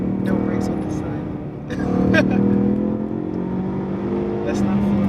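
A 2017 Ford Mustang EcoBoost accelerates on a track, its four-cylinder engine note droning steadily close by, rising slightly partway through over a rough road and wind rush.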